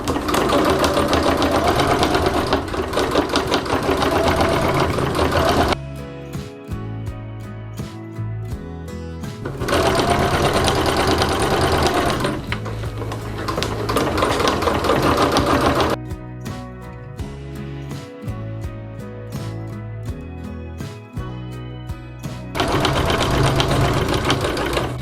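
A sewing machine stitches quilt-as-you-go strips in long loud runs of rapid needle hammering, separated by short quiet pauses filled with faint handling clicks and the low hum of the motor.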